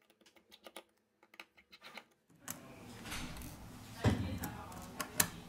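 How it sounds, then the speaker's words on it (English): Small screws being undone from the sound box of a Huawei Y7 2019 phone during a teardown: quiet, close ticks and clicks at first, then rustling handling noise with a few sharper knocks. "Unscrew the screws of the sound box."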